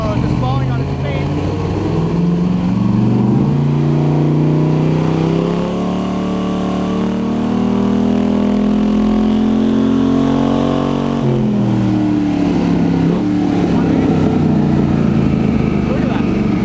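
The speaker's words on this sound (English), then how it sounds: "The best part is you can literally hear the engine go" A GM LS V8 fed by three lawn mower carburetors revs loudly and steadily, its pitch climbing and falling in long sweeps, close and continuous throughout.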